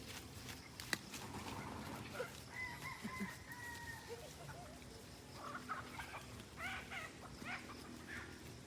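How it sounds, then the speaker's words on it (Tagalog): Chickens on a chicken farm in the Philippines, with clucks and crowing-like calls scattered through busy farmyard noise, plus a dog and bursts of human voices mixed in. "Ang manok! Ang manok!"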